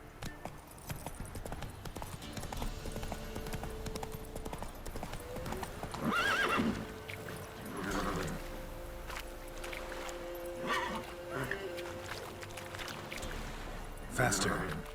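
Roach the horse galloping in Witcher 3, steady rhythmic hoofbeats running throughout with occasional whinnies, plus a voice speaking over the hooves.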